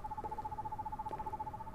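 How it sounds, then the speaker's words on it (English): Repeated hooting of an owl-like bird in the video game Perception, a steady pulsing call that runs throughout at moderate level over a low background hum, with no talk. "Bird."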